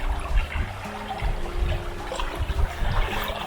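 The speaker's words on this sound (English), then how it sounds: "So this is the Fossil Creek Spring, and it is flowing out of there" Spring water at Fossil Creek Spring in Arizona flows in a steady close trickle and gurgle, with a low rushing wash running underneath throughout.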